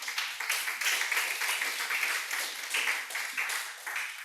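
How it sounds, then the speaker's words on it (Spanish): A church congregation applauds together during a worship service, a steady dense patter of many hands clapping with slight pulsing swells, moderately loud and continuous throughout. "Le damos un aplauso al Señor."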